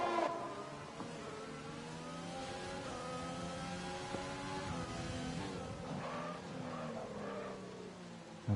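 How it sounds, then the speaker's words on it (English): Race cars in the F1 2020 video game at the Hungary circuit whine past with rising and falling engine pitch, a continuous layered roar of several cars close together with no talk. "you can hear the cars screeching across the ground"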